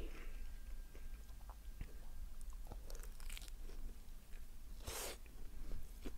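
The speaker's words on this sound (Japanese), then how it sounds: "パリパリ聞こえる" Crunchy bites into vegetable-heavy gyoza, eaten in New York, give close, quiet, crisp crunches and chewing at an irregular pace, with one sharper burst of crackle near the end.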